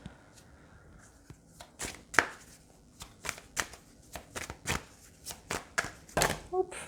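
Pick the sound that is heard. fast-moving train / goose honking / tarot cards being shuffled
tarot cards being shuffled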